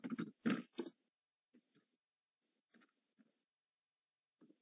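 Soft computer mouse clicks come one at a time at an irregular pace, with longer gaps between several faint, sharp ticks after a short cluster of louder clicks at the start.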